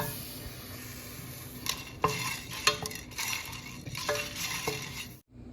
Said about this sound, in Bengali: কটা শুকনো লঙ্কা হালকা ভেজে নেব, তার সাথে দিয়েছি একটু গোটা জিরে, গোলমরিচ, লবঙ্গ, এলাচ